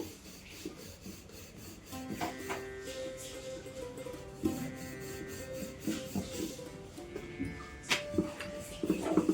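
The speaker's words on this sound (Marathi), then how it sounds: "पराठाही आधीच्या पराठ्यासारखा छान पातळ लाटून घेते मी" A rolling pin rubs and thumps softly as methi paratha dough is rolled out thin. The sound is a quiet, irregular scraping and tapping close by, with no talk.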